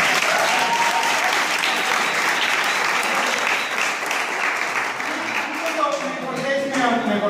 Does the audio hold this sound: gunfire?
no